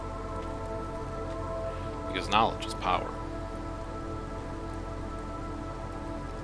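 Rotten Rain falls in the video game Against the Storm as a steady, even hiss of rainfall, with someone talking briefly over it.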